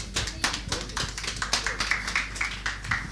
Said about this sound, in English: A round of applause for KJK and Heidi Kabasa,